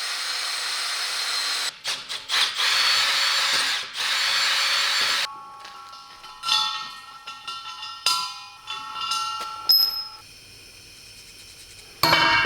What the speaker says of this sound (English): I'm just gonna drill this through and put a bolt there so I can take it off.